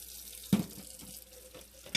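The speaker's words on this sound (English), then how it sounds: "I start by filling them with hot water, or I add hot water to the sink" Hot tap water runs into a sink to warm canning jars, a steady close rush of water with a few louder splashes and clinks as the flow hits the jars, no talk.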